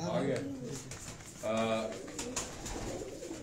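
Pigeons cooing close by at a pigeon-flying competition, soft throaty calls repeating over a busy background with some voices mixed in.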